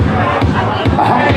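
Crowd at a carnival-style community session in a beer hall in Cologne's Salzgasse, cheering and shouting in unison during a practice cheer, with a dense, loud and continuous roar of voices throughout.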